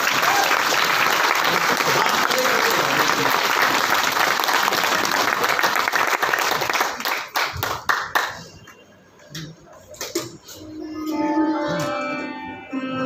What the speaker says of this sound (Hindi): एक बार जोरदार तालियां बजाइए, जोरदार।